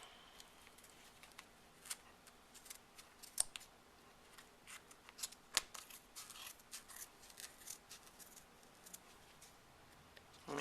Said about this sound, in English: fold your pom-pom maker together like this, and then just cut